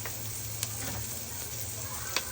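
Garlic, onion and ginger sizzle steadily in a hot pan, a soft continuous crackle with a couple of faint clicks of a utensil.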